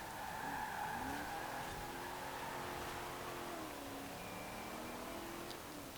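A Holden Monaro races in Forza Horizon 4, its engine holding steady, gliding tones with faint tire squeal. The sound stays fairly quiet and continuous throughout, with no talk.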